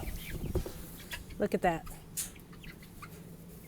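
Young chickens, a mix of six-week-old and three-week-old birds, cluck and chirp close by in a short burst of a few rapid calls, with a person speaking briefly over the flock.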